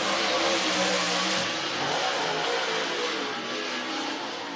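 Race cars accelerate off the green flag down the front straightaway of the Whynot Motorsports Park short track during the Fall Classic, a loud, steady engine roar that fills the whole stretch with no break.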